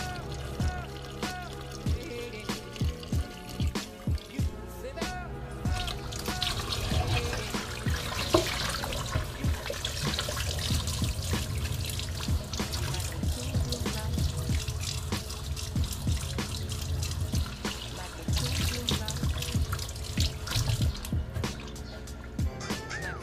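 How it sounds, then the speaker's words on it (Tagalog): Water from a tap runs steadily over vegetables being washed, a continuous splashing trickle with occasional drips and knocks, close and sustained for over twenty seconds. "Hugasan muli ang mga vegetables."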